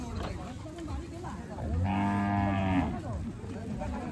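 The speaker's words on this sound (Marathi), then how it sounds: "गाडा आणि बैल" A bullock hitched to a cart lets out a loud, drawn-out moo lasting about a second, nearby, over a steady outdoor rumble.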